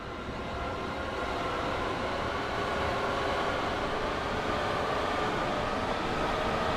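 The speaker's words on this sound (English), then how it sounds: "We go for our first train by" A Long Island Rail Road train in Train Sim World 2020 rolls past with a steady, sustained rumble and rhythmic wheel clatter, growing slightly louder toward the end, with no voices.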